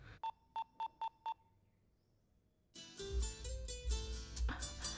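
Five short, evenly spaced telephone dialing beeps sound clearly, each a pure tone, before loud music and background sound swell in; set in a Hindi-dubbed film scene where someone rings a lost phone.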